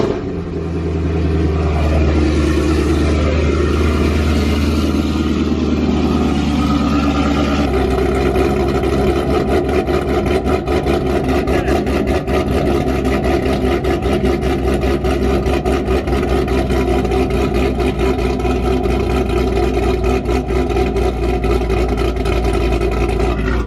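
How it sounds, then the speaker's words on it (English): A cammed Chevrolet Corvette Z06 engine fires up from cold, settling into a loud, steady, lumpy idle that rumbles on without pause, with a slight shift in tone partway through. "let's go ahead and get a cold start on the Vette once more."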